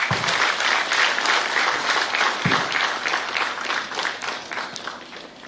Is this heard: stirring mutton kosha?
no